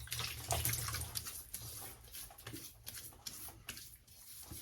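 Tap water runs steadily into a basin while a face is wetted before a shave with a Gillette double-edge razor, a soft close splashing with irregular surges and small splattering bursts.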